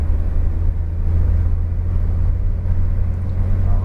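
Porsche being driven around a racetrack, a steady deep engine drone and low road rumble heard from inside the car, constant and loud with no voices.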